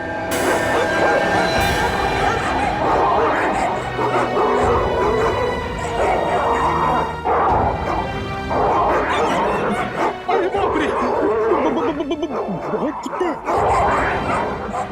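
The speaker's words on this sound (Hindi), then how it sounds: "भौंकने की आवाज इधर से आ रही है।" Dogs bark and yip again and again over a steady background rumble, with people talking over the barking.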